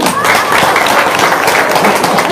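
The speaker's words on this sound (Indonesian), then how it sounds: "Tepuk tangan dong." Loud, dense applause from a seminar audience at a talk on getting rich without debt, a brief burst of many hands clapping close and continuous, with some crowd noise and possible voices mixed in.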